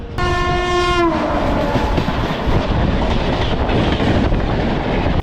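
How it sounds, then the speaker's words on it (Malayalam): A Kochuveli Mysore Express train sounds a loud horn blast at the start, then rolls on with a steady, close rumble and rattle of wheels on rails. "സമയം 7:10 ആയപ്പോൾ നമ്മുടെ ട്രെയിൻ വൈറ്റ്ഫീൽഡ് റെയിൽവേ സ്റ്റേഷനിലേക്ക് എത്തിയിട്ടുണ്ട്."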